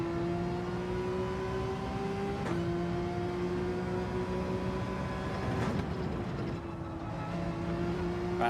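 A McLaren race car engine in Gran Turismo 7 holds a loud, steady high whine with audible gear shifts as the pitch steps and resettles, running close and unbroken with no voices.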